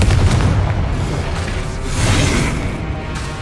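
A Confringo spell explosion in Hogwarts Legacy bursts with a loud booming blast that rolls into a low rumble, followed by a second swelling whoosh.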